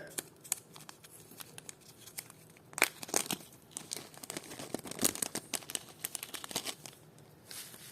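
Small plastic bag crinkling and rustling while a parcel of vintage jewelry is unpacked, irregular close crackles with louder bursts of handling in the middle and near the end.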